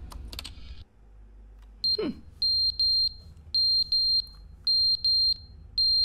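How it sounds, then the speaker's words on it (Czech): Smoke alarm in a video game chirping its low-battery warning: bright, short electronic beeps repeating in quick pairs and clusters, clear and fairly loud over a quiet room hum, after a brief rustle at the start. "Tomu požárnímu poplachu se vybíjí baterie?"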